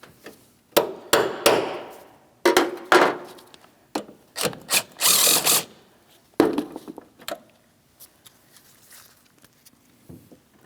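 Sharp metal taps drive a stripped bolt removal socket onto a worn fastener while replacing the transmission mount on a 2007-2014 Ford Edge 3.5L V6. The strikes come in clustered bursts, then trail off into fainter scraping and handling.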